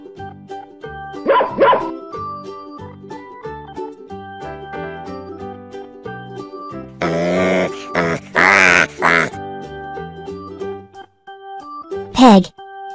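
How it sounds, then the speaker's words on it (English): A pig grunts in a cluster of rough, loud bursts midway through, with background music running throughout and a brief voice near the end. "Pig."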